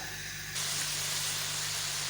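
Pressure cooker cooking mutton, releasing steam: a steady, loud hiss that starts abruptly about half a second in and holds through to the end, over a low constant hum.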